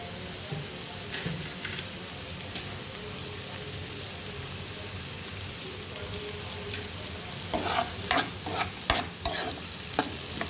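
Chopped carrots sizzling and being stirred in a pan for no-onion, no-garlic paneer fried rice, a constant close frying crackle with spatula scrapes and clattering taps growing busier toward the end.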